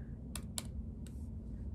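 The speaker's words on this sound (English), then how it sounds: "so I'm going to type in sudo" On a Mac keyboard, a few quick keystrokes click close and crisp, three or four light taps in a short burst over a faint steady background hum.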